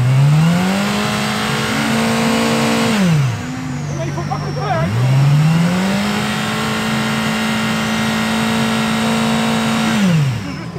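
A MotoGP-type track motorcycle revs hard while stationary for a mandatory noise test, two long sustained high-rpm pulls separated by a brief drop, loud and close.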